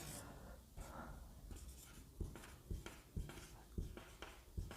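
Chalk or marker strokes on a classroom board come in short, irregular taps and scratches at close range, faint and without speech.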